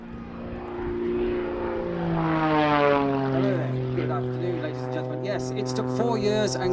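The Rich Goodwin Jet Pitts aerobatic aircraft flying at the Duxford airshow, its propeller and engine tone rising and then sliding downward in pitch as it passes, with a person talking over the engine noise.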